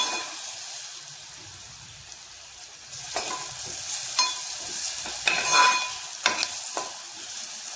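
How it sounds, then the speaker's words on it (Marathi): Homemade Malvani masala sautés in a pan for a spicy potato curry. A constant frying hiss runs under repeated scraping stirs of a spoon, and the stirring grows louder and more frequent partway through. "आपल्याला आता व्यवस्थित परतून घ्यायचं आहे।"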